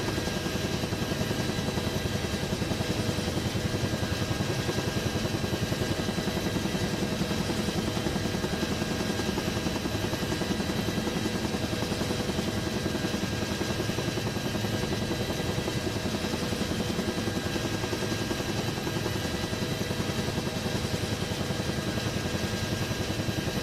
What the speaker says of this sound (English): the Huey is probably one of my favorite aircraft to fly in VR